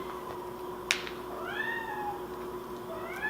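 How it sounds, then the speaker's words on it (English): A cat meows faintly in the background of a kitchen, two drawn-out rising-then-falling meows a little over a second apart, over a steady low hum and a brief clatter. "I don't know if you can hear Xander meowing in the background there"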